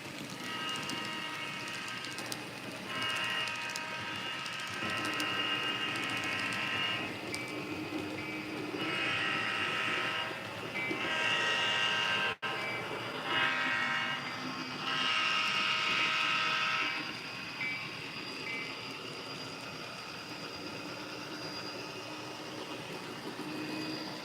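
A passing train heard from outdoors at a moderate distance, a steady broad rumble with repeated surges of bright screeching and clattering from the rail cars over about twenty seconds, with no talking.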